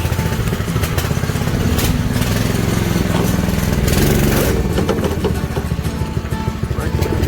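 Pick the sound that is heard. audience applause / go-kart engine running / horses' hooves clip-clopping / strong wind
go-kart engine running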